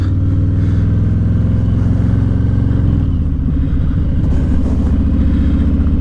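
A black car drives through a red light while heard from a motorcycle on the road, its engine rumbling low and steady up close, shifting in pitch partway through as traffic moves past.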